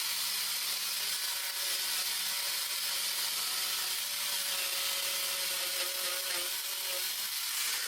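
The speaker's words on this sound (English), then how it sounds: "lines that I can follow with the saber saw" A saber saw cutting through wood, a steady buzzing drone with a faint tonal hum, continuous and fairly even from start to finish without any voices.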